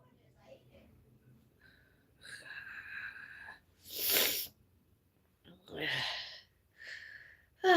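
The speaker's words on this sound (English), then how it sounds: "Stop sneezing." Several sudden, breathy bursts come in quick succession, close and fairly loud, the sharpest sounding like a sneeze, with a voice nearby between them.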